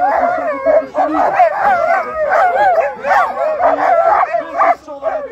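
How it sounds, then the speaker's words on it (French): Alaskan Malamute sled dogs bark, yip and whine excitedly at the start of a sled-dog race stage in La Chapelle-d'Abondance, a dense, loud, overlapping chorus of close dogs with a voice talking beneath. "Il s'agit des Malamutes, des chiens nordiques."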